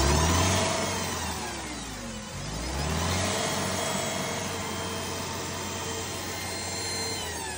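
Komatsu FG20ST-16 forklift engine revving during a test after repair, a loud close drone that dips briefly and then climbs back to a steady high rev.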